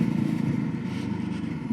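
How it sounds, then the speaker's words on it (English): A Voge 300 Rally motorcycle's exhaust gives a close, steady raspy burble with a fast pulsing throb, heard alone for under two seconds. "It's got a nice little sound from the exhaust there, quite a nice rasp."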